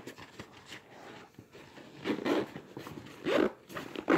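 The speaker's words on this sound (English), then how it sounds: "Let me zip this back up." A zipper is pulled closed on a medical bag, close by and quiet, with several short rasping strokes that grow louder toward the end.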